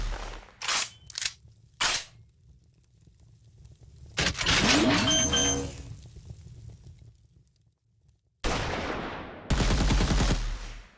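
A sniper fires in an Unreal Engine 5 video game: several sharp gunshot bursts come in separate clusters, with loud, dense blasts around the middle and end and quieter stretches between them.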